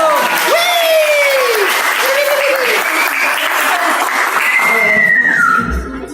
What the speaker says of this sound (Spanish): Ahora como aplaudieron.